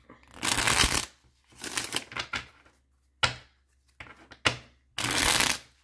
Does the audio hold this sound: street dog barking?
no